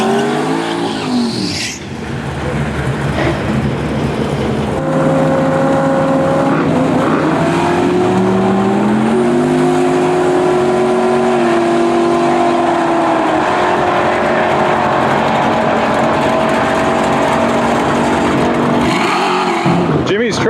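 Drag cars launching down a quarter-mile strip, loud engines roaring and rising in pitch as they accelerate away, with a tire chirp near the start and a voice talking over the racket throughout.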